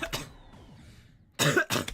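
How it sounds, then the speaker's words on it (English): A person coughs: one short cough at the start, then after a pause two harsh, loud coughs close together, up close. "I'm coughing so much"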